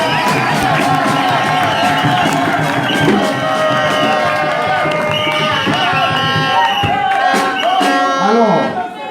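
A crowd at a speech event cheers, whoops and claps in a dense, continuous roar of voices and hands that stays loud for the whole stretch, with shouts rising and falling.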